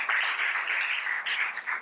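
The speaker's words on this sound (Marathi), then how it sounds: "सो एकदा ह्या OTA केलेल्या मुलींसाठी पण आपण जोरदार टाळ्या देऊया" A seminar audience claps for a group of girls, a brief burst of steady applause that stops abruptly after under two seconds.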